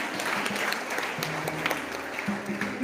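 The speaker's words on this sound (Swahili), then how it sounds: "Makofi kwetu." A parish women's group gathered at a thanksgiving Mass claps in steady applause for nearly three seconds, with faint voices and a low hum underneath.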